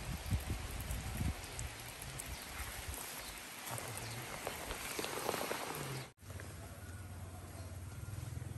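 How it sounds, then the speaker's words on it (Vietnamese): Heavy rain falling on a rural thatched house with woven bamboo walls, a dense continuous hiss of drops pattering on surfaces, steady and loud throughout with a brief dip near the end. "Ú, bắt đầu mưa to rồi này."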